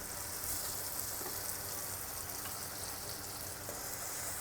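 Onions and tomatoes sautéing in a pan for a spicy prawn curry give a steady, soft sizzle and crackle that holds evenly throughout, with no voices.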